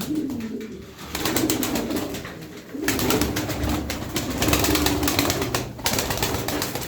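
Aksaray tumbler pigeons in flight with wings flapping, a rapid fluttering patter mixed with nearby pigeon coos, moderately loud and continuous with short dips, with no talking.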